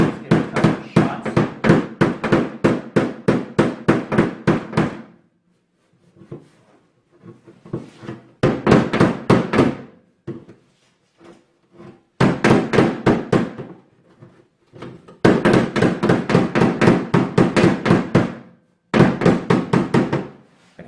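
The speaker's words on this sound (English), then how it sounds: "Now I'm just positioning the head of the body hammer right over the crease." Rapid bursts of sharp body hammer blows on car sheet metal, struck in quick rhythmic runs separated by short pauses, close and loud.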